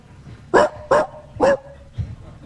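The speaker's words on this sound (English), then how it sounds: "Hot puppy dog." A dog barks three sharp times in quick succession, close and fairly loud, followed by a softer final yelp indoors.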